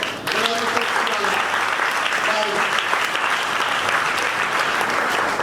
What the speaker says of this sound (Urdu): زوردار تالیاں۔